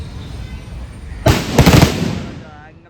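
A temple offering firecracker (vedi vazhipadu) goes off with a sharp, loud bang, quickly followed by a second crackling burst that rolls off into a fading echo over quiet background noise.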